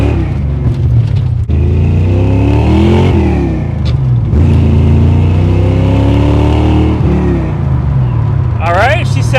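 A 1989 Ford Mustang GT Foxbody V8, leaking oil under the hood, idles loud and close with a steady low rumble and a couple of rev swells, while people talk over it throughout.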